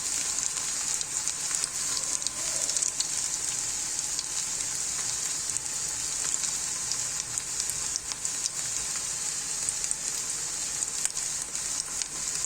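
Meatballs fry in oil in a pan with a steady, dense sizzle and crackle, close and continuous, with no voices.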